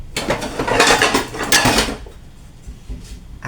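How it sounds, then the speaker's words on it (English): A frying pan and other pots are rummaged and handled in a kitchen, with loud metallic clanks and rattles for about two seconds that then fade to quiet. "I found the frying pan"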